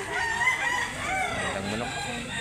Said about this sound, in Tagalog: Ang manok.